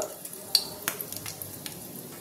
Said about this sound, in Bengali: তেলটা আমার গরম হয়ে গেছে, এবার ফোড়নগুলো দিয়ে দেবো। দিয়ে দেবো দুটো তেজপাতা, শুকনো লঙ্কা দুটো